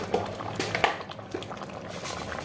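Eggplant dish (begun bahar) bubbling in a pan with a little sugar added, a soft continuous simmer with light pops and crackles, fairly quiet and close, no voices.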